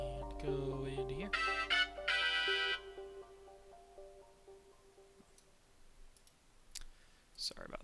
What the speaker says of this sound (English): That was my phone, if you could hear that.